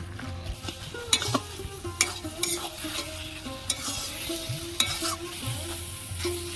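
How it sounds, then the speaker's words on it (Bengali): Taro stems are stirred and fried in a pan, giving a soft continuous sizzle punctuated by about a dozen sharp scraping strokes of a spatula at an uneven rhythm, heard close up. "এবার আমি এইভাবে নাড়াচাড়া করে কচুর ডাঁটাটার রসটা মেরে নেব"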